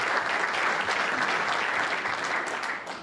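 Audience applause at a spring reception, dense steady clapping from a crowd that keeps going throughout and fades slightly at the end.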